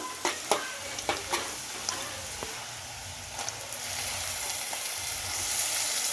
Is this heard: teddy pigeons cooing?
no